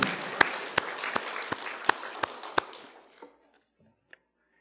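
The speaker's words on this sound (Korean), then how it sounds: "이 영화로우신 초월적인 우리 예수께 다시 한번 큰 박수 올려드립니다" A crowd at a Korean church sermon applauds with dense, steady clapping punctuated by a few sharp louder claps, then the applause fades out into near silence.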